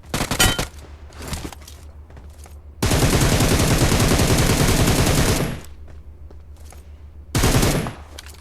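Bursts of automatic gunfire in PUBG Mobile, a few loud short volleys followed by a sustained roaring stretch of rapid shots and a final burst, close and dominant with no talk.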